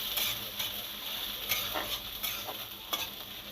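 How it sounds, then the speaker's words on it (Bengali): Chopped onions fry in a pan and get stirred, a quiet steady sizzle broken by repeated scraping strokes of the spoon at an uneven pace. "এর মধ্যে আমি পেঁয়াজ কুচি দিয়ে ভালো করে একটু ভাজা ভাজা করব"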